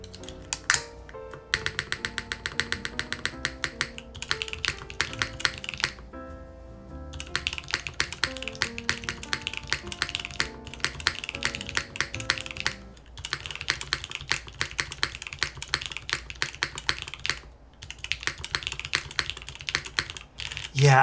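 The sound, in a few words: typing on mechanical keyboard with HMX switch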